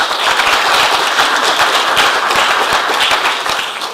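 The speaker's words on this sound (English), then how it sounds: "Let's give Dr. Fry a round of applause." Audience at a sustainability invention competition final applauds a judge, a loud dense wash of many hands clapping continuously for several seconds with sharp individual claps poking through.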